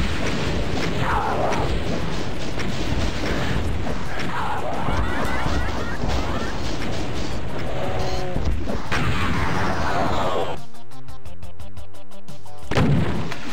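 Rocket launcher fire in Doom TNT: Evilution aimed at a Baron: loud, repeated explosive blasts and crashes pile up over dense game noise, with brief mechanical chatter near the end.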